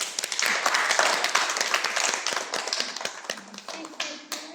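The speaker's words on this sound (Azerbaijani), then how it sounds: "Sonda alqışlar da sizin üçün gəlsin." A crowd applauds at an event in the Sumqayit Flag Museum, with dense, lively clapping close by that thins toward the end while voices murmur underneath.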